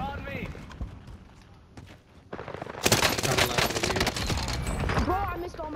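Rapid bursts of video game gunfire crackle loudly in a busy shooter match, building into sustained automatic fire after a quieter stretch, with players talking over it.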